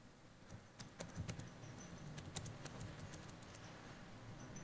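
A computer keyboard being typed on, heard as quiet, irregular keystroke clicks in a short burst, with no voices.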